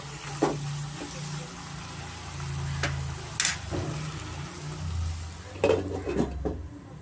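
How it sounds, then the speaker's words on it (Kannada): A plate is set over a pan of simmering mushroom pepper curry, with a few sharp metallic clinks and clatters over a soft cooking hiss and low talking in the background. "ಇವಾಗ ತಟ್ಟೆ ಮುಚ್ಕೊಳ್ಳೋಣ"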